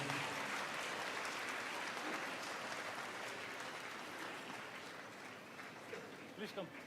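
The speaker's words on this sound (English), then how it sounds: "I'd like to ask everybody to give another round of applause." Audience applause at a Buddhist gathering honouring His Holiness, a dense steady wash of clapping that fills the clip at moderate distance and slowly thins toward the end.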